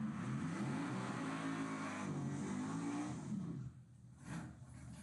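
A Chevrolet Nova drag car launches down a drag strip, its engine revving hard and climbing in a loud, rising roar that fades away after about three and a half seconds as the car pulls into the distance.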